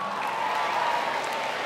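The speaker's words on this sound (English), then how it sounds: "I appreciate you clapping" A middle school audience at a keynote address claps in a steady, dense wash of applause that holds at an even level throughout the short stretch.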